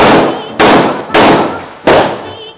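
Four loud, sharp pistol shots from a Taurus G3 at an outdoor long-course shooting range, evenly spaced, each with a long decaying echo.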